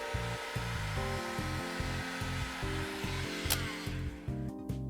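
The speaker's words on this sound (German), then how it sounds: "Ich benutze jetzt hier eine Heißluftpistole" A heat gun blowing hot air to warm an iPhone 7 and soften its adhesive, a steady whooshing hum with a pulsing motor drone underneath, constant and close.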